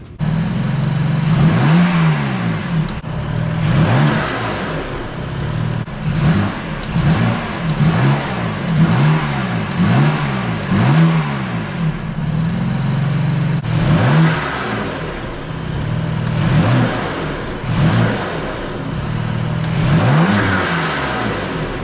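A BMW M3 S55 engine fitted with aftermarket CTS turbo intakes revved repeatedly and loudly, rising and falling in quick successive bursts, with the intake roar prominent and close.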